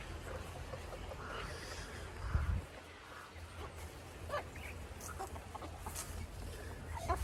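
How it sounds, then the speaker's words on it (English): A flock of Pekin pet chickens clucks outdoors after morning rain, with soft scattered clucks and low murmurs at a moderate distance, fairly faint against steady background ambience. "this is the main flock of Pekins, the main sort of pet chickens"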